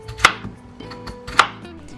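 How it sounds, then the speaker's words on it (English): A knife cuts peeled Idaho potatoes into quarters on a board, two sharp, distinct chops about a second apart with faint knocks between, close and clear, with no talking. "Slice them in quarters so they can cook faster."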